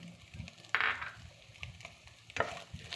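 A spatula stirs egg, tomato, drumstick, garlic, shallots and pepper powder in a pan, with soft scraping, a low sizzle and two sharper clatters close by.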